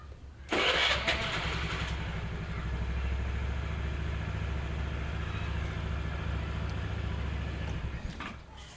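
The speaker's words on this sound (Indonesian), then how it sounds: "Kita lihat ya suaranya ketika di starter." A 2012 Honda Vario 110 carburetor scooter engine cranks and fires after a brief pause, then settles into a loud, steady, rough idle close by, with no talking.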